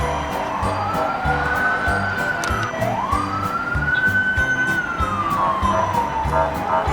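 A police car siren wails in long rising and falling sweeps over a low rumble of traffic, moderately distant and steady across the whole stretch with no one speaking.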